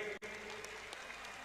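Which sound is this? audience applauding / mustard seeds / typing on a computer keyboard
audience applauding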